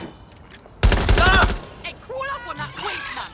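A short, loud burst of rapid gunfire erupts in the Watch Dogs Legion video game, followed by quieter in-game voices talking.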